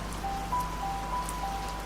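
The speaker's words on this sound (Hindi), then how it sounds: "अब बारिश आधे घंटे एक घंटे रुकने वाली नहीं" Steady rain falls in a continuous, even hiss, with a faint low hum beneath and no voices.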